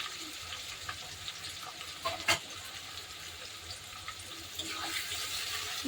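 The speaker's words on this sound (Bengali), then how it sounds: "এবার পেঁয়াজ দিয়ে দিচ্ছি বন্ধুরা" Chopped onions sizzling in a pan as they go in for a meat curry, a steady close hiss with a brief sharper splash in the middle and a louder crackle near the end.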